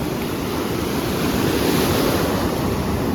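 Ocean waves roll and wash onto Mughsail beach in Salalah, a constant broadband surf roar mixed with wind buffeting the microphone, steady and close, with no voices.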